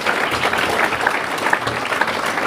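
An audience claps at the mayor's New Year ceremony in Seclin, a dense, even patter of many hands applauding throughout with little else audible.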